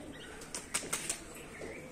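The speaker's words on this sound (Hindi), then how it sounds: "सारे कबूतर ऊपर बैठ गए और कुछ आसमान में उड़ रहे हैं" Pigeons at a home loft flap their wings in flight, three quick wingbeat bursts close by against a faint outdoor background.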